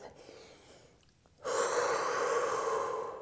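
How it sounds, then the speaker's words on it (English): Deep breath during a mat workout stretch, drawn in through the nose and let out through the mouth; a faint inhale gives way after a pause to a long, loud breathy exhale that lasts to the end. "Take a deep breath here, in through the nose and out through the mouth"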